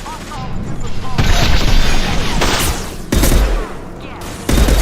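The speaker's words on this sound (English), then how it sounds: "Fire from the Krogan." Gunfire from a Krogan in the video game Mass Effect Legendary Edition, loud sustained bursts of shots with booming impacts, nearly continuous across the scene.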